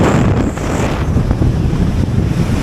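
Strong gusting wind buffets the microphone on a rooftop near the wind turbines at Savalanga, a constant loud low roar with no voices.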